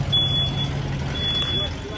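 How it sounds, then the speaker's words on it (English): A vehicle's backup alarm beeps twice at a car show and swap meet, thin high-pitched tones a second apart over outdoor crowd murmur and engine rumble. "Now I got backup alarms."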